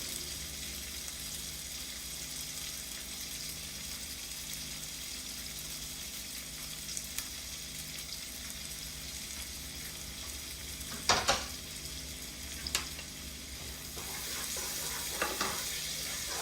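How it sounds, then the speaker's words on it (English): Onions and garlic go into a pan of bacon fat for an orecchiette and cauliflower dish, with a soft, steady sizzle running throughout, broken by a few brief clinks and scrapes near the end. "So we're gonna add the onions. And our garlic."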